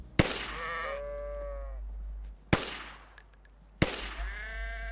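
Sheep bleat three times in the frozen survival game DayZ Frostline, each call starting with a sharp loud onset and trailing off, over a low steady background hum.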